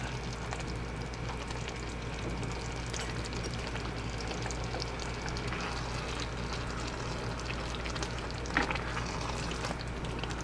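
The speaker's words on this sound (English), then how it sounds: "So I'm just going ahead and mixing in all my ground beef." Ground beef frying and being stirred in a pan in a home kitchen, a steady soft sizzle throughout with occasional scraping stirs, close and moderately quiet with no talking.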